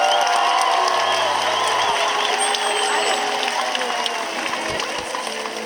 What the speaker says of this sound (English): I want you to give a huge round of applause for Shouka